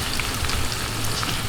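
Onions fry in a pan with oil while adobong paksiw na bangus is cooked, giving a steady, close, crackling sizzle throughout.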